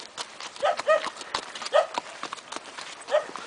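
Horse hooves clip-clop in uneven steps close by as a rider is led along on horseback, with occasional quiet speech-like sounds mixed in.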